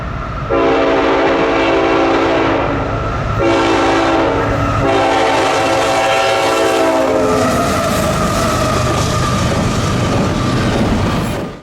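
A CN freight train passes close by on a rail line, its horn blaring a long chord for several seconds, then fading as the rumble and clatter of the wagons carry on loudly to the end.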